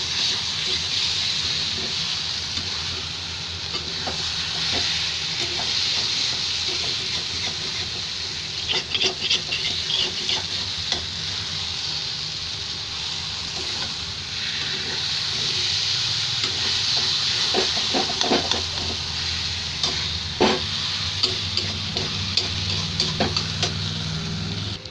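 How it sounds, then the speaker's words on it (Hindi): Ground black chickpeas being stirred and roasted in a hot pan with oil, a steady sizzle and hiss with scraping strokes of a spoon throughout, close and continuous. "इसको लगातार चलाते हुए भूनेंगे"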